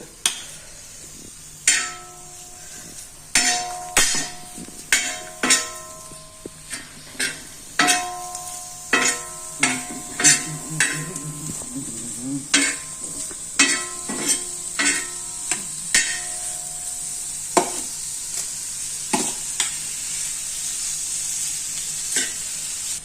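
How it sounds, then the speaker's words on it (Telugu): Chicken pieces dry roast in an iron pan under a soft, steady sizzle, punctuated by repeated sharp metallic scrapes and clinks of a spatula stirring at an irregular pace. "ఇది ఐరన్ పెనం కాబట్టి డ్రై రోస్ట్ చేయాలంటే ఇందులో ఉన్న నీళ్ళంతా ఇంకిపోవాలన్నమాట"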